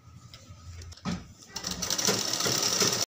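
A sewing machine stitching together the panels of patiala pants, running in a steady mechanical whir that starts up after a short pause and continues close and fairly loud to the end.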